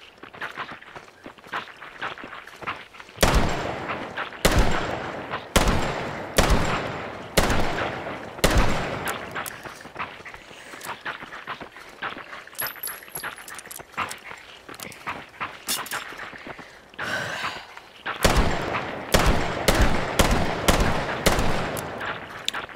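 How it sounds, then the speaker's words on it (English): Flintlock pistol shots in a video game sound as a series of sharp, loud bangs. They come in irregular bursts over about twenty seconds, some spaced apart and others in quick clusters, with softer game noise between them. "Am I actually supposed to shoot these?"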